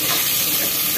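Onions added to a pan for Tamil mutton kulambu, a loud dense hissing sizzle filling the whole short moment, close and steady with no talking.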